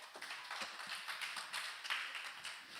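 Audience at a church camp celebration service clapping for Nathan, a fairly quiet, steady patter of many hands at a distance, with no talking over it.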